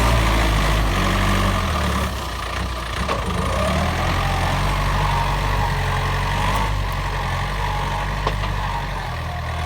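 Yanmar 45 hp tractor with a 2,189 cc non-turbo diesel runs steadily at a near, loud idle, giving a continuous low rumble with no talk.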